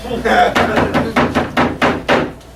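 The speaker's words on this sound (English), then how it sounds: "You best knock louder." Loud knocking on a door during a staged performance of Shakespeare's comedy, about eight heavy, evenly spaced blows in a steady rhythm, close and forceful.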